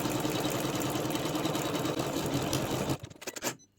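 An MC9900 embroidery sewing machine stitches a second outline around an Easter basket appliqué in a hoop, a fast, even mechanical whir that runs steadily and then stutters to a stop near the end.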